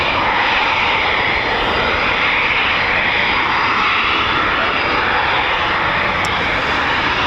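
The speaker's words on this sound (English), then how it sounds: "Another Typhoon just taxiing out for departure." Eurofighter Typhoon FGR4 fighter jet taxiing out for departure at RAF Coningsby, a loud, steady, continuous engine roar and whine that holds at a constant level throughout with no talk.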